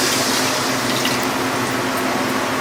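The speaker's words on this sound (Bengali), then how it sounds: "জল ঢেলে দিয়ে এবার," Water being poured into a pot of chicken curry cooking on a village-style stove, producing a steady close splashing, gushing rush that fills the short stretch without any talk.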